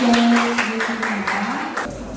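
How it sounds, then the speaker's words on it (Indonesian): Applause in a classroom lesson: a short run of quick, even claps sounds under a sustained tone, and a voice speaks briefly. "Berikan tepuk tangan untuk"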